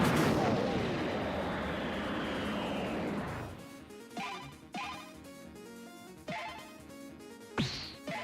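Dragon Cannon attack in the video game Wander Stars, a loud roaring blast that rolls for about three seconds and fades, followed by several sharp impact hits with ringing tones.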